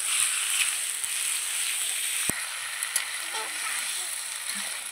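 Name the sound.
meat with spices frying on a clay stove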